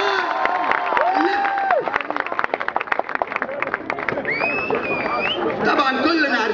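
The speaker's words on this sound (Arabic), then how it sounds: "سقفة يا جدعان، اسمع سقفة يا جدعان" An audience at a comic Upper Egypt dance show at Global Village 2007 in Qatar claps and cheers steadily, with whistles and crowd babble rising and falling, while a voice talks over the noise.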